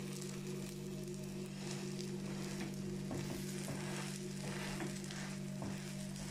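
A folded cheese omelette cooks in a pan over low heat, giving a steady, even sizzle throughout with a few soft spatula scrapes and taps near the end.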